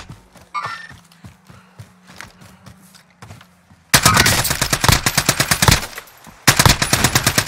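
Video game shooter gunfire opens with scattered single shots and footsteps, then breaks into loud, rapid automatic bursts, a sustained rattling volley that pauses briefly and resumes close and intense.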